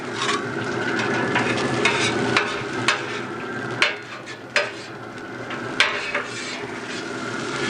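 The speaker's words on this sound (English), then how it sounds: "I mix the egg in with the rice real good." Egg and rice stir-frying on a griddle insert over a BBQ for a Thai dish, with a steady loud sizzle and repeated sharp scrapes of a spatula against the metal surface.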